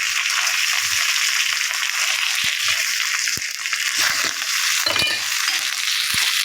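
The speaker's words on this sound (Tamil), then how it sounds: "அதை நான் வந்து இதில் கொஞ்சம் போட்டு கிண்டிக்குவேன்" Ingredients being stirred in a cooking pan, a steady hissing sizzle with a few sharp clinks and scrapes of the spoon against the pan, close and continuous, no talking.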